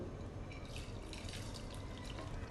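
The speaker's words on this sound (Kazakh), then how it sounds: "Енді су құямыз." Water is poured into a soup pot for a quick lunch soup, a faint steady splashing and trickling stream throughout, low in level and with no voices.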